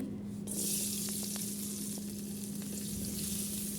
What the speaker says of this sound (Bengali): এখন এই তেলেতেই আমি দিয়ে দেব পেঁয়াজ এবং মরিচ কুচি